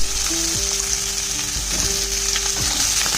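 Chicken pieces sizzle steadily in butter with garlic in a pan, a continuous loud frying hiss with a few faint scraping stirs, no voices.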